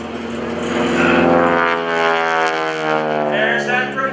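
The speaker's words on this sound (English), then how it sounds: "When you hear that sound of the propeller, you're actually losing efficiency" Aerobatic two-seat training airplane performing a loop at an airshow, its propeller giving a loud sustained harmonic drone that swells and shifts in pitch through the manoeuvre, with no talk over it.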